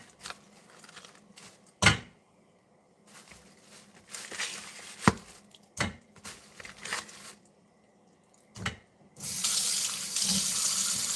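Kitchen faucet water used for washing onions: sparse knocks and splashes of handling, then a steady, fairly loud rush of running water toward the end.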